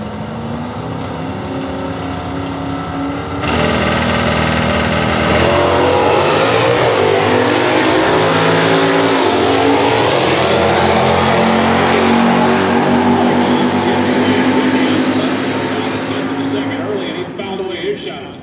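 Stock eliminator drag cars, including a V8 Pontiac Firebird with an automatic, launching at the NHRA Winternationals: loud sustained engine roar building after a few seconds and holding steady before fading, with a track announcer talking over it.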